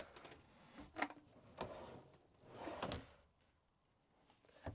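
A soft-close drawer in a compact Giottiline Compact CX66 motorhome glides shut, with a few gentle knocks and muted sliding bursts, faint and close by in a quiet interior.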